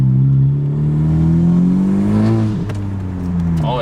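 A 2018 Honda Civic Si with a 1.5-liter turbo engine, PRL Cobra intake, PRL downpipe, front pipe and muffler delete revs up, holding a loud rising drone before dropping back, with a brief whooshing intake sound near the end.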